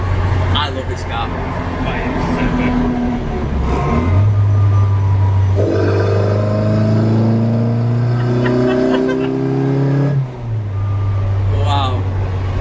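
A Mini Cooper S MK1 engine drones loudly from inside the car on the road, its pitch climbing through the gears in steady rising sweeps, with people talking over it.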